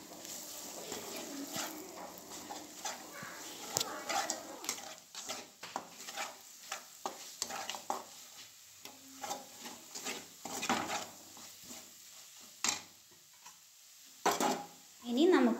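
Fish biryani masala with turmeric is sautéed over a medium flame, intermittent stirring scrapes and soft sizzling bursts that come and go at close range, with quieter gaps and a few sharper clatters near the end.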